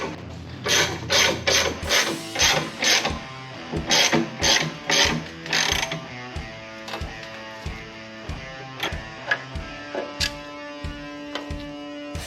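A hand ratchet works loose the shock bolts on a Harley-Davidson Dyna Super Glide, a run of quick, loud metallic clicking bursts up close, then slower scattered clicks and taps as the bolt frees.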